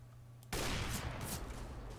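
Sudden burst of gunfire in the video game CS:GO erupting after a quiet moment, a dense loud rattle of rapid shots that continues to the end.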